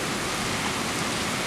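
Steady heavy rain falls outdoors in Chicago during a tornado warning and flash flood warning, making a dense, even hiss of rain on surfaces that continues without a break and is fairly loud, with no voices.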